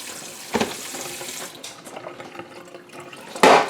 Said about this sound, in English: And I'm rinsing all the lemon juice off there.